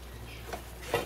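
Mutton keema being stirred and fried with turmeric, coriander and cumin powders in a pan, giving a faint low sizzle with two soft scrapes of a spoon against the metal, the second louder near the end.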